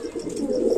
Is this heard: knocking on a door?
no